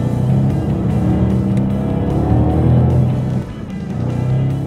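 A supercharged Mustang V8 with a Magnaflow exhaust roars as the car accelerates hard, its deep exhaust rumble rising and holding loud and close, with a brief dip near the end.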